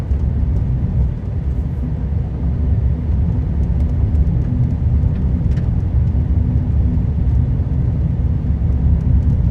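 A Class C RV with a manual transmission drives steadily along, its low engine and road rumble constant and close throughout, with no gear changes standing out.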